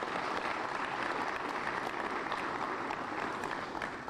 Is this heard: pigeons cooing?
no